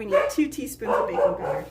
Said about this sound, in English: And my apologies for my dogs, guys. They're